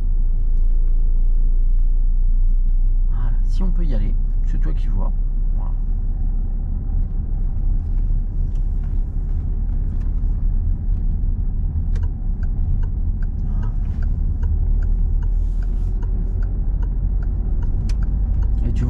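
A car driven by a learner at a roundabout pulls away in second gear, its engine rumbling low and steady from inside the cabin while an instructor talks over it.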